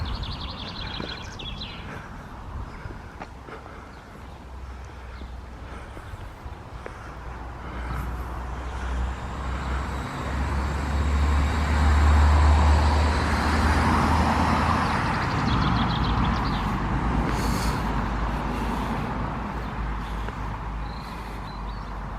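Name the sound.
birds singing amid road traffic noise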